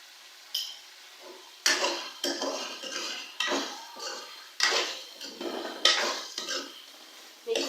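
A spoon clanks and scrapes against a metal pot in irregular strokes while chicken masala is mixed with garam masala, close and fairly loud, with no talking.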